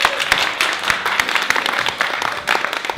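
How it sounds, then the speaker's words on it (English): A theatre cast applauding themselves after their first night's performance, a lively patter of clapping with sharp individual claps standing out and the intensity swelling and easing across the moment. "give yourselves a huge round of applause for the first night"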